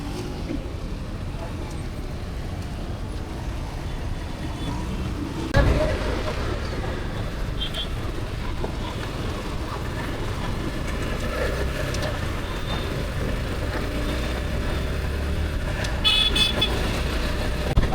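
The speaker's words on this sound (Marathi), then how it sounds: "तिथं आता काय झालंय ट्रॅफिक लागलंय बघतो." Road traffic jam with a steady rumble of engines and several car horns, honking briefly at moments, including a sharp blast near six seconds and more toots near sixteen seconds, with people talking in the background.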